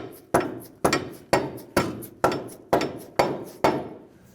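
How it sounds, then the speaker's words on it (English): A rubber mallet gives eight evenly spaced, solid taps to seat a lower control arm on a 2015-2019 Hyundai Sonata. Each thud rings briefly before the next one lands, close and alone without any voices. "take a rubber mallet, see if we can give it a few taps into position"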